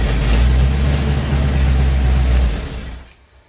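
A Ford Mustang SN95 engine runs with a loud low rumble close by, then sputters and dies away over the last second into near silence.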